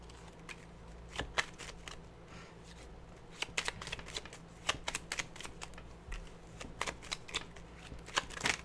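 Tarot cards are shuffled close by in a quiet room, a string of soft riffling and sharp snapping clicks scattered irregularly over several seconds.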